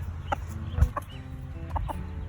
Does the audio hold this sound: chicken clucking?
yes